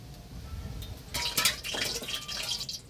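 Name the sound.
pouring oil into a wok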